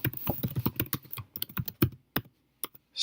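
Fingers typing on a computer keyboard while filling in an Excel spreadsheet: a quick, close burst of crisp key clicks that slows into scattered taps and pauses, with no voice over it.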